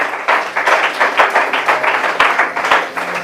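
A church congregation applauding in praise, close and loud rhythmic clapping that keeps a steady beat for a few seconds with no talk.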